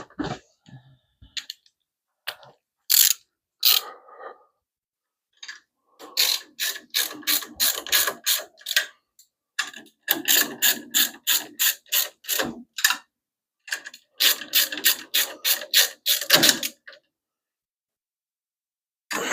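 A hand ratchet fitted with a 7/16 socket tightens bolts on a Simplicity Prestige garden tractor, making close, loud bursts of rapid pawl clicks in quick strokes separated by brief pauses, with no talking.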